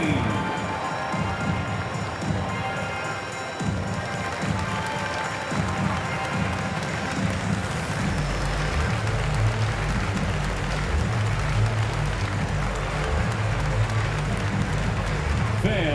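An arena crowd at an NBA Finals game between the Seattle Supersonics and Chicago Bulls applauds the dance team, a steady, dense wash of clapping and crowd noise with loud low thumping music underneath for the whole stretch.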